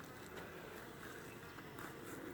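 Honeybees buzzing around an opened hive after a queen install, a faint, steady droning hum with a few brief louder passes close by.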